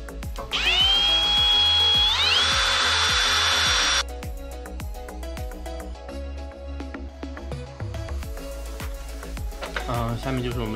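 A power drill bores holes for a front splitter on a Subaru BRZ / Toyota 86, whining loudly for a few seconds before it stops. Sharp knocks and clatter from the tools follow.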